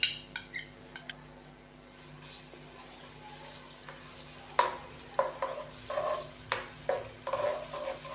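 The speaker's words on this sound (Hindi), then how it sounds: "अदरक और लहसुन के पेस्ट को हम 1 से 2 मिनट भून लेंगे।" Ginger garlic paste frying in lightly heated cooking oil in a kadai, a steady soft sizzle broken by sharp scraping clinks of a spoon against the pan, the stirring growing busier toward the end.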